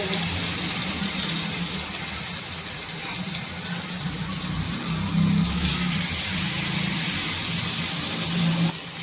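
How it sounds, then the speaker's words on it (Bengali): Chicken leg pieces fry in hot mustard oil with a continuous, close hissing sizzle that holds steady throughout, swelling slightly midway. "দেখো সর্ষের তেল গরম হয়ে গেছে এবারে চিকেনের লেগ পিসগুলো আমি এখানে দিয়ে"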